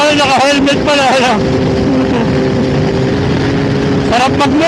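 A Yamaha big bike, an MT-10 or Tracer 9 GT, drones steadily at highway speed with strong wind rush, while a rider's voice cuts in loudly over it at the start and again near the end.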